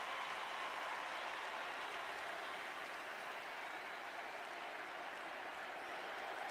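A funeral ceremony crowd keeps up dense, continuous applause, steady and fairly loud throughout with no voice standing out.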